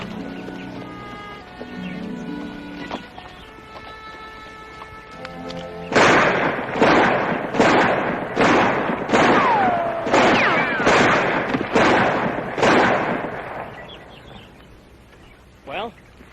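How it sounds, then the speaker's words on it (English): Loud gunshots from a shooting demonstration, fired as about eight sharp cracks at a steady pace, each with a ringing tail, after a stretch of music; one fainter shot follows near the end. "I didn't think anybody could shoot like that."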